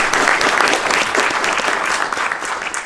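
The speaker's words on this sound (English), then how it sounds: "another round of applause for our wonderful moderator tonight" Audience applause for the moderator at the close of a talk on the future of warfare, a dense steady roar of many hands clapping close and loud throughout, with no voices over it.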